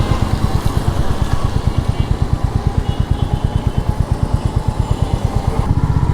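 Royal Enfield Meteor motorcycle being ridden in Bangladesh after rain, its single-cylinder engine thumping in a fast, even pulse, loud and close, continuous throughout with no talking.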